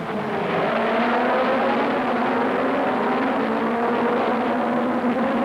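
1960s Grand Prix cars, including Surtees's Lola, roar around a circuit during a 75-lap race, their engines blending into a loud, sustained high-revving drone with a passing car swelling slightly near the end.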